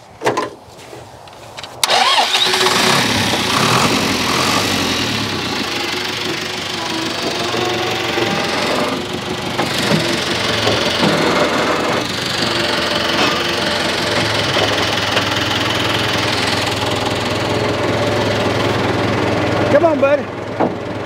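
A roughly 40-year-old telehandler's engine cranks and catches after a short pause, then runs with a loud, steady mid-pitched diesel clatter for a long stretch, with people talking over it.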